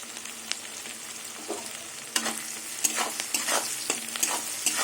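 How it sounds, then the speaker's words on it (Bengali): Crushed garlic and half-fried onion sizzle in a pan, with repeated stirring strokes and scraping over a continuous crackling fry that grows busier toward the end. "এবার রসুন দিয়ে পেঁয়াজ দিয়ে কিছুক্ষণ ভাজবো"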